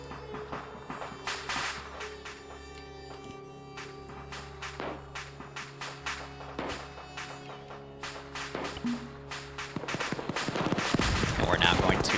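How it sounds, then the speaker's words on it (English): Mortar and gunfire in Arma 3 during a Fallujah escape mission, a series of sharp sudden bangs at irregular intervals over a steady low engine hum, growing denser and louder toward the end. "Mortars are firing."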